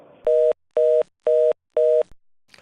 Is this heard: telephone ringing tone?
yes